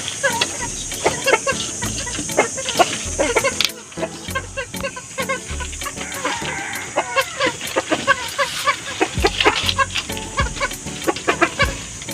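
Chickens on a backyard poultry farm, including laying hens, cluck in a steady, dense stream of short calls, fairly close and loud, with no talking over them.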